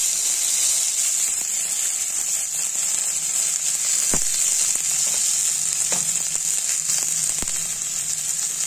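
Onion and garlic frying for shidal chutney, a loud, dense, continuous sizzle close up with a few sharp pops and clicks scattered through, and no one speaking.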